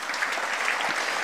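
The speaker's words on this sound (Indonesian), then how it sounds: "kita tepuk tangan untuk Mr. Park" An audience applauding Mr. Park at a network marketing seminar, dense steady clapping from a crowd with no pauses, moderately loud.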